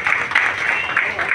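An audience at a senior citizens' program claps together, producing a brief, dense burst of applause with uneven peaks, close and moderately loud.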